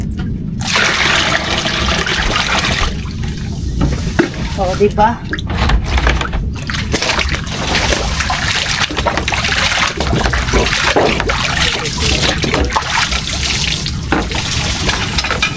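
River water flows and splashes steadily as it is scooped up for washing during a boat trip, a constant rushing wash under frequent nearby talking.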